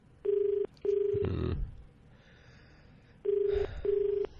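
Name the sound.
telephone dialing and ringing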